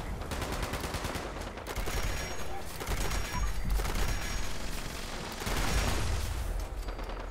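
Gunfire and explosions in the video game Fallout 76, including a grenade blast, form a dense, loud, continuous barrage of rapid shots and booms.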